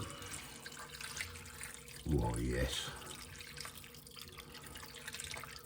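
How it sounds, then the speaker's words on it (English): Water poured over a dish being prepared for the oven for a classic British meal, a brief loud pouring burst in the middle while a person talks nearby. "Water on top."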